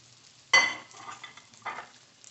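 Onion, green chili and curry leaves sautéing in a pan for chicken roast, a sharp burst of sizzle and spatula scrape followed by softer stirring and a second scrape, close and fairly quiet.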